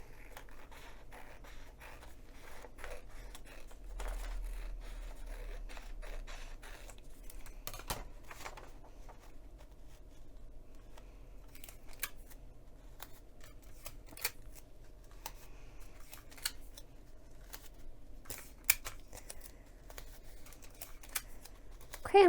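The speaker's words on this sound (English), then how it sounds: "I'm going to cut out along the left-hand margin." Scissors cut a paper sewing pattern along its margin, making steady close snips and crisp paper rustles that continue for a long stretch with no speech.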